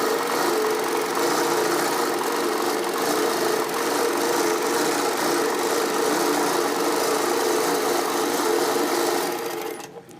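A Moxie longarm quilting machine stitches a stipple pattern with a steady, loud, close mechanical whir and rapid needle chatter that runs unbroken, then winds down right at the end.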